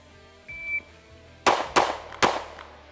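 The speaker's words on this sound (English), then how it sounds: "I'm going to shoot now each one of these pistols with a 2 to the chest and 1 to the head." Three quick pistol shots ring out close and sharp, a rapid pair followed by a third, fired as a two-to-the-chest, one-to-the-head drill from compact carry pistols such as the Sig X-Macro, Hellcat Pro Comp or CR920. A timer beep sounds just before them.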